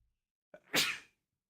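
A single sharp sneeze, close and fairly loud, with a brief intake of breath just before it and quiet on either side.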